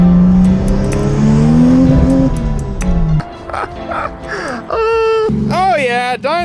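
A Toyota Supra's engine revs on a dyno in rising, sweeping pulls toward the end, with voices talking loudly over the running motor.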